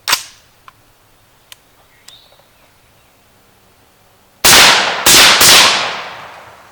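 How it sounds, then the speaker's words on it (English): A handgun fitted with a Liberty Cosmic suppressor is fired downrange at an outdoor range: one sharp shot, a few faint distant pops, then three loud close reports in quick succession, each with a ringing decay. "I'm going to just run a few rounds down range just so you can see where I'm at with it."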